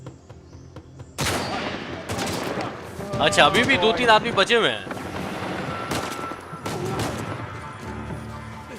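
Uncharted 4 video game gunfire, several sharp shots and a burst of rapid fire cracking over a quieter background, with someone talking over the action.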